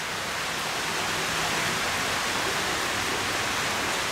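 Heavy January rain falling steadily outdoors, a dense, loud, unbroken hiss of downpour with no talk over it.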